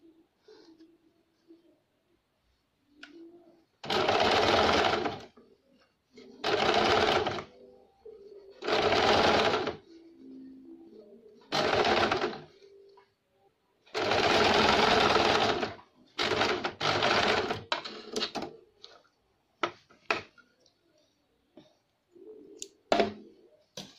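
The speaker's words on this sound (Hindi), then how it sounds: "यहाँ पे साइड पे किनारे पे सिलाई देंगे।" A sewing machine stitches along the neck edge of a blouse in six or so rapid mechanical bursts, close and clear, separated by brief pauses with faint handling clicks.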